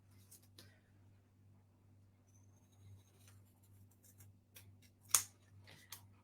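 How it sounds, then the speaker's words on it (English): Quiet snipping and rustling of long scissors tapering a handmade calla lily, a scattering of soft clicks with one sharper snip near the end, over a low steady hum. "long scissors, just taper the top to a point"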